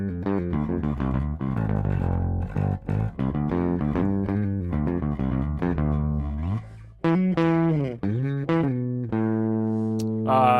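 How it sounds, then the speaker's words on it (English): A bass guitar played through a germanium overdrive pedal gives loud, gritty sustained notes in a melodic line with slides and bends, alone without talk. "here's what it sounds like with the overdrive on it"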